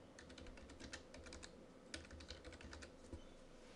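Typing on a computer keyboard, a quick, uneven run of close, crisp key clicks over a low background hum, with no speech.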